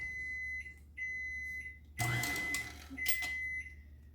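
An electronic kitchen alarm beeps in a steady repeating pattern of high tones, fairly faint, broken by a brief burst of clattering noise.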